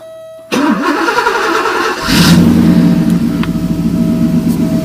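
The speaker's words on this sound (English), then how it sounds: "let's start the car and see if we don't get any, or hopefully we don't get any awful noises" Porsche 928 V8 catching on the starter after a faint hum, then settling into a loud steady idle close by, the engine note firming up after a couple of seconds.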